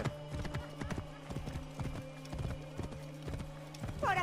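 Horse hooves clip-clopping in the video game Assassin's Creed Origins, a steady rhythmic trot of clear knocks with a whinny near the end, heard over a low hum.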